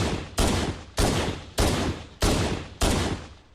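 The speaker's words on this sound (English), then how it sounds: "here's the original sound effect for the CE pistol" Halo CE pistol shots from the original game, six sharp, punchy reports fired in an even rhythm, each with a quick decaying tail.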